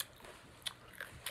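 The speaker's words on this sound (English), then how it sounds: "So I'm going to eat this whole carrot" A cheetah bites and chews a whole raw carrot, giving faint close crunches with a few sharper snaps, quiet and without talk.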